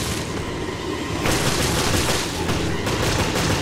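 Dense, continuous gunfire and booming blasts from the video game Resident Evil Revelations fill the mix loudly throughout, with a couple of sharper bursts standing out amid the constant noisy roar.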